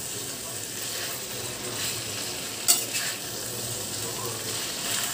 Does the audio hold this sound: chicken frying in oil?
yes